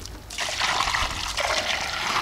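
Water splashes and trickles steadily over freshly made homemade cement blocks at a South African home, a close, continuous wet pour with no talking.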